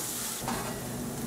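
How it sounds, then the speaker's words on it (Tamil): Chili powder and turmeric masala are stirred in a pan for a lentil dumpling curry, giving a steady close-up sizzle with a soft scrape of the spoon. "இதை நல்லா மிக்ஸ் பண்ணிக்கலாம்."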